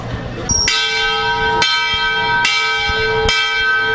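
The bell on an early-1900s locomotive at ExpoRail rings loudly and close, with four clear metallic strikes about a second apart, each leaving a sustained ringing tone.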